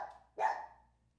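A dog gives a single sharp bark from some distance, a short loud burst that quickly fades away in an otherwise quiet room.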